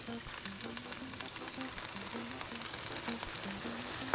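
Tiger shrimp sizzle and fry in olive oil with a chili garlic sauce, a steady crackling hiss that runs throughout, broken by a few brief clicks of stirring.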